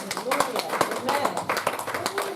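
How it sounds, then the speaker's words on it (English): A church congregation at a Sunday prayer service claps hands in a steady, rhythmic beat at a moderate distance, mixed with voices speaking or singing. "Clap your hands and celebrate God."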